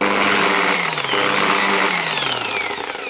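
A rotary polishing machine, an old-school angle-grinder style unit fitted with a pad, whirs steadily and loudly up close at high speed, its pitch sliding slightly as it runs throughout, used to polish a 19-year-old Volvo.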